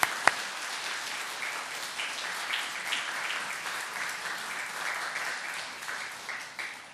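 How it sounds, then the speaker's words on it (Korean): Church congregation applauding to welcome a newly married couple and their family at a Sunday service, a steady broad clapping sustained for several seconds before tapering off near the end. "박수로 환영해 주시기 바랍니다"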